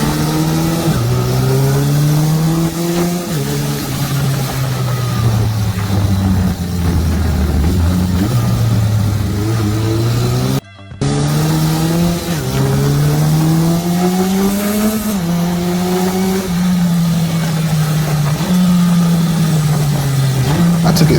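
A 1976 Honda CB550 motorcycle engine runs steadily while riding, its loud, close exhaust note rising and falling through gentle revs and gear changes, with a brief dropout near the middle and no talk.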